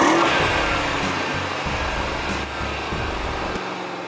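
A Mercedes E63 AMG station wagon engine pulling under acceleration on the road, a deep, throaty drone with rising revs and shifting tone, steady and close, with no talking.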